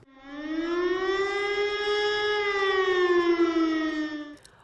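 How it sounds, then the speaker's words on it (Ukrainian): A civil defense air raid siren wails in a single long sustained tone, rising slightly and holding steady before cutting off, clear and fairly close with nothing else over it. "Громадяни, повітряна тривога, повітряна тривога."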